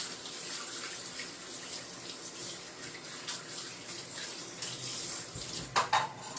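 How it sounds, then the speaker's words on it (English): Tap water runs faintly in a home kitchen as a measuring cup is rinsed, a soft, continuous splash with a couple of small clinks near the end. "let me rinse this measuring cup here"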